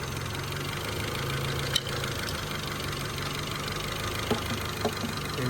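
A Honda CRX engine with an idle surge problem idles steadily and close by, a constant low rumble with a few faint clicks and taps over it, and no one speaking.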